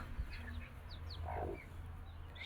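Soft, sparse clucking and small high peeps from a hen and her chicks, faint and close, over a low steady hum.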